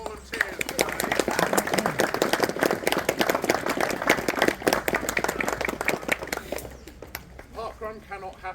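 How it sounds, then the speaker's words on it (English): A small outdoor crowd at a parkrun in a country park claps for the volunteers, a dense burst of many hands that fades out near the end, with birdsong audible as it dies away. "can we have a round of applause for all the volunteers today?"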